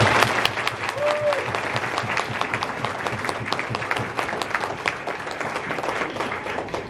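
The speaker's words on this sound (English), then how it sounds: "join me in celebrating their love and efforts with a round of applause" Sustained round of applause from an audience honoring parents and families at a WBS ceremony, dense steady clapping filling the room throughout with a faint voice briefly audible.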